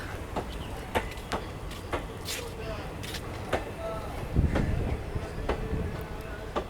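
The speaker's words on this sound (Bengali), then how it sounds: "কলকাতা হলদিবাড়ি আয় চলে যাচ্ছে আমাকে ছেড়ে একা একা" Kolkata–Haldibari train pulling out of the single-platform Patipukur station, a steady rumbling roll with sharp rhythmic wheel clicks and a brief heavier surge midway, heard from nearby with faint background activity.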